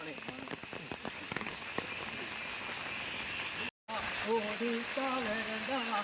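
Steady rain patters on surfaces in a constant hiss during an outdoor morning walk, with a few birds calling faintly in the background.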